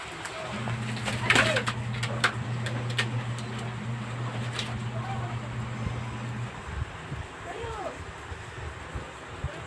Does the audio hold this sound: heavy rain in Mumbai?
no